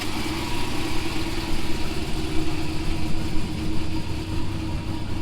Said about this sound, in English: I wanted to fire it up and let it idle so you guys could hear the sloppy stage 2